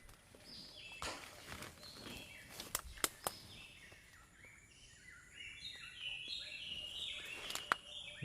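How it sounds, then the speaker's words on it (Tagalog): Many birds chirp and whistle around an abandoned house in the mountains, with overlapping rising and falling calls near and far, a few sharp cracks and clicks scattered through, and quiet in between. "Dami ibon."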